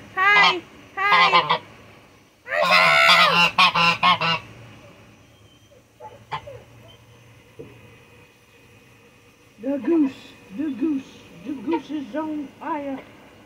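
A Toulouse goose honks loudly in repeated bursts, nearby and close to the microphone, with a person speaking briefly between the calls.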